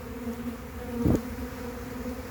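A dense honeybee swarm moves into a hive, filling the air with a continuous close buzzing drone, with one brief louder thump partway through.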